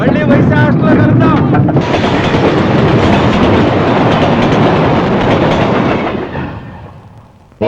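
A train rumbles past with rhythmic clickety-clack on the rails, loud and close, then fades away toward the end.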